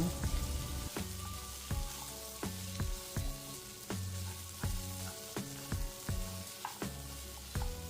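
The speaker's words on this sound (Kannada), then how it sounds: "ಈ ಥರ ಹೈ ಫ್ಲೇಮಲ್ಲಿಟ್ಟು ಮಿಕ್ಸ್ ಮಾಡಿಕೊಳ್ಬೇಕು. ನೋಡಿ, ಸರಿಯಾಗಿ ಫ್ರೈ ಆಗ್ತಾ ಬಂತು." Chicken fries in a pan over a high flame, a loud steady sizzle close by, with regular scraping strokes of a spatula stirring the pieces about once a second.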